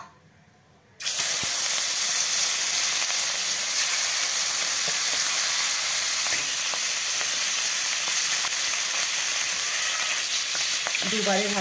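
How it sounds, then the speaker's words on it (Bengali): Fish rubbed with turmeric and salt sizzles loudly in hot oil in a wok. The frying starts abruptly after a quiet second, then holds as a steady, bright hiss and crackle throughout. "কড়াইয়ে তেল গরম হয়ে গেছে। এখন মাছ ছেড়ে দিব।"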